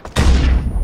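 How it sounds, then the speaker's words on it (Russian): A single loud gunshot in the Far Cry 4 video game, fired during co-op play, hits sharply and then rolls out in a booming tail that fills the rest of the moment. "Это не я выстрелил, кстати."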